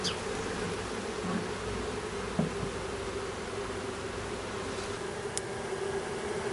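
Newly installed package honey bees buzz at their hive in a dense, continuous drone, close and steady.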